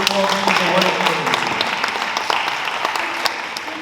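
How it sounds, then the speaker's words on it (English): An audience at a 2023 leadership summit claps for the worship committee, a dense burst of applause that gradually fades, with some voices underneath. "Let's give a big applause to the worship committee"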